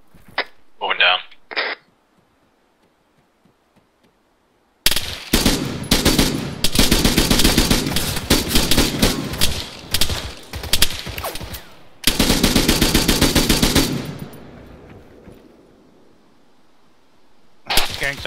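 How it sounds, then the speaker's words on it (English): Heavy automatic gunfire in the video game ARMA 3, in long rapid bursts from the base of a hill, loud and close, with a gap of quiet between them and brief sounds before the first burst. "Hearing some heavy gunfire from the base of this hill."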